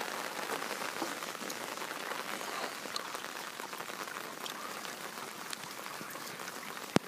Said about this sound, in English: Live as it's raining.